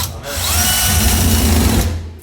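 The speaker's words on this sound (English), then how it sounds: "Now, bolt it back onto the wall." A power drill runs steadily and loud, driving a bolt to fix a mount back onto a wall, its motor whine holding nearly constant for about two seconds before cutting off.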